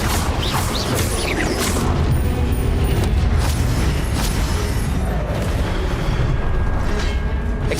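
Explosive Confringo spell blasts in Hogwarts Legacy, booming and crashing with a dense, rumbling roar that stays loud and sustained across the whole stretch amid chaotic combat noise.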